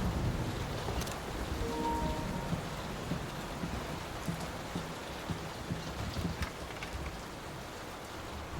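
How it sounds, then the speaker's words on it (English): A steady rain hisses and patters through a stormy scene in the horror game Layers of Fear, with faint distant rumbles of thunder rolling underneath, constant and moderately quiet with no talking. "Will this storm ever run out of rain?"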